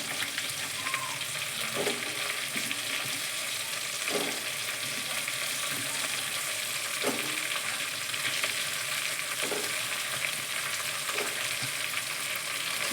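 Ingredients mixed and frying in oil in a pan give a steady close sizzle, with a stirring scrape every second or two. No one speaks.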